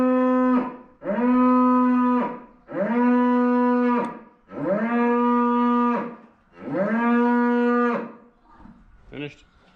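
Cattle, including steers and young stock, moo on a farm: five long, loud, nearby bellows in a steady rhythm, each a couple of seconds long with short gaps between, followed by a brief fainter call at the end.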